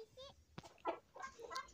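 A hen clucks in a small home garden with a few short, soft calls close by against a quiet background.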